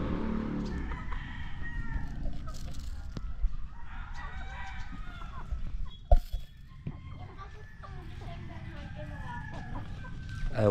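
Rural backyard chickens cluck and a rooster crows several times at mid distance, with faint voices and scattered knocks among the birdsound.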